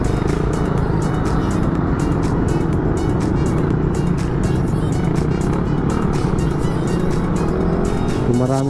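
Heavy road traffic on the Naic to Tejero route in Cavite, with cars and motorcycles, makes a constant loud engine drone and rumble without letup, like dense congested vehicles passing nearby.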